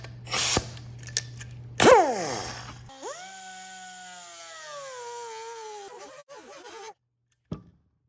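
A power tool makes the first cut through a plastic Puig Café fairing for a Honda CB650R motorcycle: a few short bursts and clicks, then a sustained whining buzz that slowly falls in pitch, breaks off, and ends with a faint tap.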